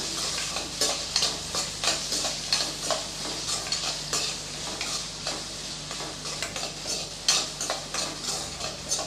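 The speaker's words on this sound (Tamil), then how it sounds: "இப்போ இது நல்லா வதக்கி விட்டுக்கலாம்" Chopped onion is sautéed in a pan for chana masala, with a spoon scraping in a steady, repeated rhythm over a continuous close sizzle of hot oil.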